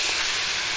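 Marinated pigeon meat goes into hot oil in a pan, giving a steady, bright sizzling hiss that stays even for a moment, close and moderately loud, with no talking.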